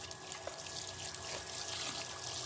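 Water trickles and pours steadily and faintly while a child is bathed, a continuous soft splashing flow.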